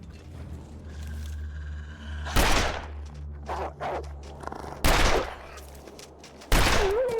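Three loud, booming rifle shots ring out in The Long Dark, spaced a couple of seconds apart, each with a rumbling tail, over quiet wind and crunching snow footsteps.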